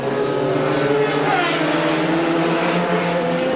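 Racing motorcycles at the 1988 ARRC Lakeside race roar steadily past at high revs, with the engine note shifting as riders change gears, loud and continuous throughout.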